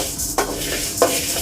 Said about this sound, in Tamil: இந்த கடலைப்பருப்பும் துவரம்பருப்பும் நம்ம வறுத்து எடுக்கும்போது ரொம்ப கருகிட விடாத அளவுக்கு வறுத்து எடுத்துக்கணும்